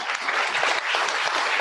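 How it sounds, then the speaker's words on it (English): A live audience in San Francisco claps for the speakers after a conversation event, a steady burst of warm applause filling the room with no voices on top. "let's all get another round of applause for our speakers today"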